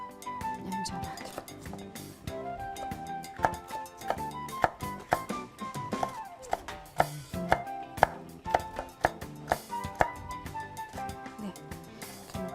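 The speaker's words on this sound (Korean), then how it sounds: "이렇게 넣고 다 썰으면 돼요." Vegetables, including bell pepper, being sliced with a knife on a cutting board for Vietnamese spring rolls, a series of crisp rhythmic chops over a steady music bed, with brief talk.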